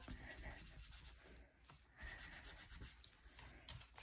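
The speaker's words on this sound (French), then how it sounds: "on peut gommer ça" A rubber eraser rubbing pencil marks off paper, with close, soft back-and-forth scrubbing strokes in a steady rhythm and a brief pause partway through.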